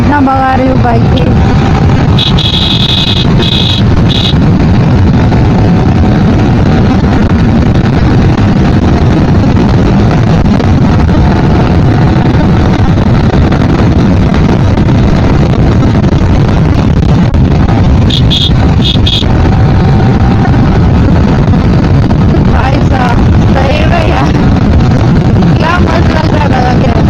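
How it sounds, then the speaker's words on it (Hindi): Motorcycle ridden fast on an open road, a loud, steady engine and rushing wind roar filling the whole stretch, with a voice talking over it. "बहुत टाइम के बाद सही में इतना भगा रही हूँ बाइक की।"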